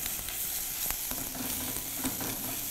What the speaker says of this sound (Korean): 대패 삼겹살 이렇게 볶는데